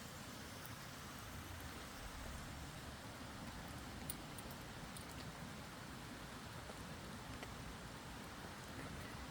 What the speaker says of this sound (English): Camping in the rain.